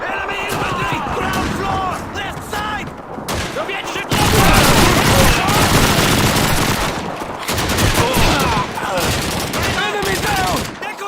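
Dense gunfire in Call of Duty 2, a near-constant fusillade of rifle and machine-gun shots with occasional heavier booms, loud and continuous, with a voice speaking at times under the shooting.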